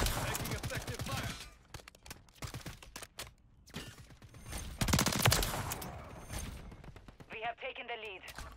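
Rapid bursts of gunfire from a BP50 rifle in Modern Warfare 3, loud, close and repeated in dense volleys mixed with other game effects, with voices talking over the shooting.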